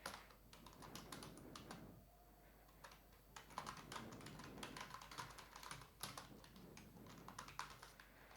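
Someone typing code on a computer keyboard, a continuous run of quick light key clicks with brief pauses, faint and close, with no talking.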